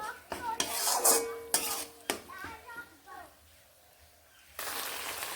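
A spatula scrapes and clanks around a pan as spice masala with tomato is stirred and sautéed for a tangra catfish curry, with close metallic strokes in bursts, then a quieter stretch and a steady sizzle returning at the end.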